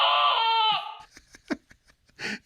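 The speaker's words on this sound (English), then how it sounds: "you get that scream, which I guess is supposed to be a sheep, but it sounds like a guy screaming" A Lionel toy train car's electronic sheep scream blares as one loud, drawn-out bleat that sounds like a man yelling, then cuts off and gives way to scattered clicks and short faint noises.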